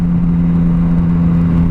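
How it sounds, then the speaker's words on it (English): A 2017 Yamaha MT-09 motorcycle on its stock exhaust idling steadily close by, a loud, even, low engine hum that holds without change throughout. "it's quite a quiet bike with the stock exhaust on"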